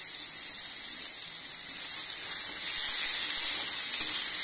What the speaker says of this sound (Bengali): এখন ঝিঙেগুলো ভেজে নেব।